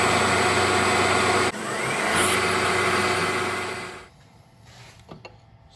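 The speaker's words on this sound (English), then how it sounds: "So now I've got the hole drilled out" A drill boring a hole through metal for a shop-made spanner wrench gives a steady loud whirring drone that shifts pitch partway through, then winds down and stops, leaving quiet shop noise.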